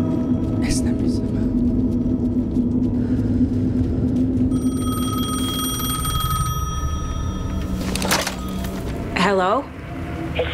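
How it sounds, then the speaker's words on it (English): A telephone rings in Alan Wake II, its harmonic ringing tone repeating steadily under a rumbling game ambience and a voice talking over it. "The phone was ringing."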